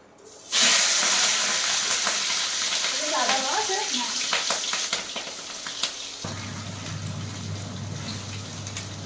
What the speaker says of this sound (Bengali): এগুলো এখন একটু ভেজে নেবো তেলও দিয়ে দিয়েছি কড়াইয়ে তো সেটা তেল গরমও হয়ে গেছে